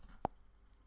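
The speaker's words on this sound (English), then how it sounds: "I'm clicking on save note." A single mouse click on a save note button in Android Studio, one short sharp tick standing alone in a quiet room.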